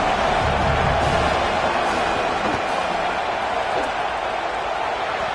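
A football stadium crowd roars steadily and loudly before a field goal kick, a dense, continuous wash of noise that holds at an even level throughout.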